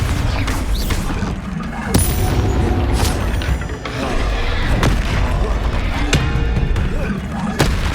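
Bombarda spell explosions in Hogwarts Legacy combat: repeated sharp booming blasts every second or so over a continuous loud rumble of battle effects and low thuds.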